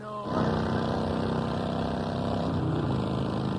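A motorcycle engine kicks in and drones steadily while riding, loud and close, a continuous buzzing roar with a faint voice-like layer underneath from a radio commercial.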